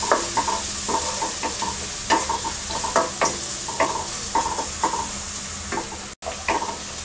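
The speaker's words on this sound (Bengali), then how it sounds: "পেঁয়াজটাকে হালকা ভেজে নেব।" Onions lightly frying in a pan, a constant sizzle broken by repeated sharp scrapes and taps of a stirring utensil at irregular intervals, close and fairly loud, with a brief cut near the end.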